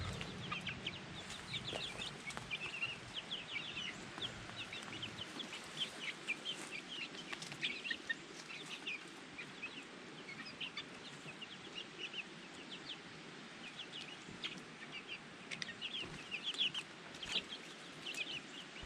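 Chickens cluck softly and intermittently while scratching and pecking outdoors in the sun. Their calls are faint and scattered, with light rustling underneath.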